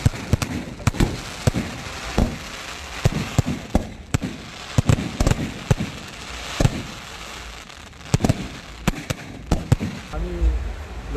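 Fireworks going off at night in Goa, a series of sharp cracking bangs at irregular intervals, some near and loud, others fainter, over a murmur of background voices.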